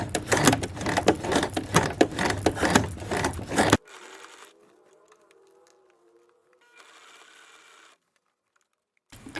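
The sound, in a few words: sewing machine hand-cranked through bulky fabric section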